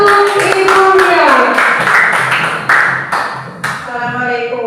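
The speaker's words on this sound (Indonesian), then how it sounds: "Tepuk tangan untuk ibunya" Classroom applause for a teacher, a steady burst of many hands clapping at close range that carries on for several seconds before trailing off.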